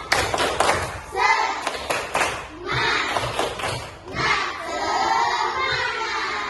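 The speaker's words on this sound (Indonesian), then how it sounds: "mari kita melakukan tepuk semangat." Primary school class doing a rhythmic spirit clapping chant, bursts of many small hands clapping in patterned groups mixed with children's shouted chanting, loud and close in a classroom.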